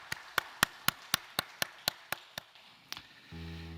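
A church congregation at a Sunday worship service claps together in a steady, even rhythm of about ten crisp beats, moderately close, then stops as soft organ or keyboard tones begin.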